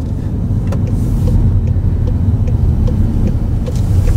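Car pulling away during a driving test, heard from inside as a steady low engine rumble with faint ticking, continuous and fairly loud throughout with no talk.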